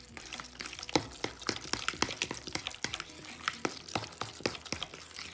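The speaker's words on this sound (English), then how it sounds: "I'm going to add 2 tablespoons of oil in the skillet over here" Oil going into a skillet while breakfast chicken sausage patties are being made, with a soft crackling sizzle and scattered sharp pops and clicks throughout, fairly quiet and close.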